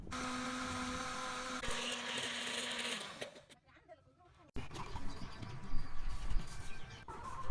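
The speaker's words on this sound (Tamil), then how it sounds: "நல்லெண்ணெய் சேர்த்து நல்லா அரைச்சிடுவோம்." A mixer grinding tomato, mint, coriander and red chilli with sesame oil whirs loudly, cuts off into near silence, then starts again with a rougher churning, while a person talks over it.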